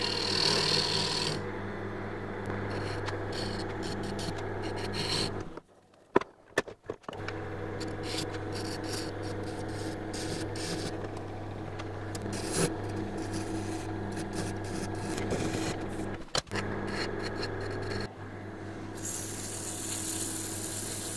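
Woodturning tool cutting the sides of an afromosia wood bowl spinning on a lathe, a continuous close scraping hum over the motor's steady drone, with a brief stop and restart midway.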